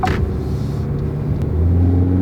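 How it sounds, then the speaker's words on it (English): A 2019 SsangYong Korando engine revs under hard acceleration, a loud continuous low rumble with steady harmonic tones that rise and swell toward the end, heard from inside the car with no talking. "the more you floor the engine, the louder it gets"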